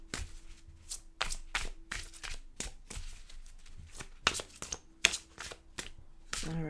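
Oracle cards being shuffled by hand in a series of crisp, riffling bursts and taps, close and moderately loud, with brief pauses between handfuls.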